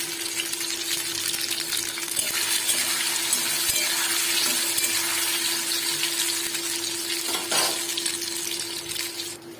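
Soybean chunks fry in hot oil in a wok, giving a steady, close bubbling hiss that stays even throughout with a faint tone underneath and a brief clatter near the end.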